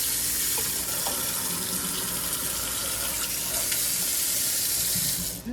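A faucet runs in a steady, full rush of water into a sink, continuous and close, cutting off right at the end.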